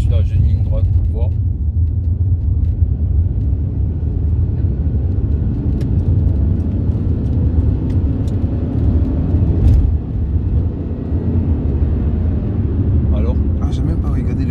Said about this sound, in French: je vais essayer de la lancer un peu sur la jeune ligne droite pour voir